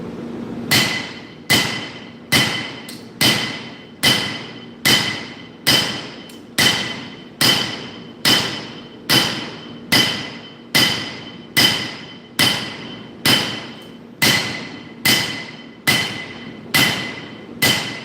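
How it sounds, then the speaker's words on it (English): Two forging hammers ring out on hot steel while a pair of Nakiri kitchen knives is forged, about twenty sharp metallic strikes in a steady, even rhythm, loud and close with brief ringing decay, no talking. "These are my two main forging hammers"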